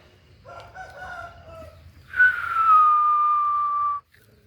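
A rooster on a country chicken farm makes a few soft clucks, then lets out one loud, close, drawn-out crow that holds for almost two seconds before cutting off.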